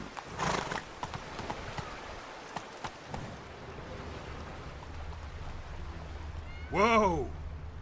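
A horse in The Witcher 3 video game trots with steady clip-clop hoofbeats over a low ambient rumble, ending in a loud, close whinny, with brief game voice sounds near the start.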